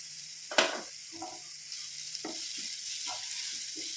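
Ginger garlic paste fries in a pan with a steady, bright sizzle, broken by a few soft scrapes and taps of a spoon, close and moderately loud with no talking.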